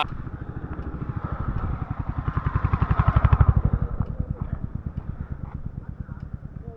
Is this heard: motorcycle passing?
yes